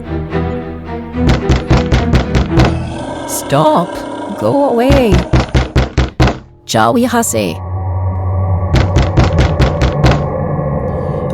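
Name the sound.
banging on a door in a horror audio drama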